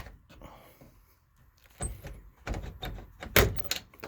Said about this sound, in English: So what I'm going to do now is I'm going to lower the drop section.